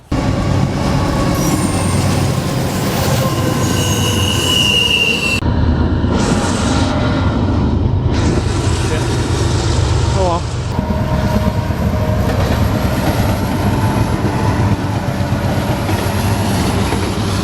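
Loud rumble of a train passing close by near Irwin, Pennsylvania area tracks, with rattling wagons and high metallic squeals from the wheels, continuing steadily.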